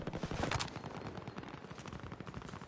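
Rapid bursts of machine gun fire in a video game, a dense rattling stream of shots with a heavier cluster near the start, loud and continuous throughout with no voices over it.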